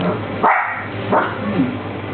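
A dog gives two short barks a moment apart, close and moderately loud, followed by a soft whimpering note, with no talk over it.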